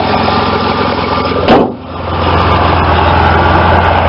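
A 1988 GMC truck engine idles steadily with a low, even rumble throughout, interrupted briefly by a sharp burst and momentary dip in level before the idle settles back to its constant drone.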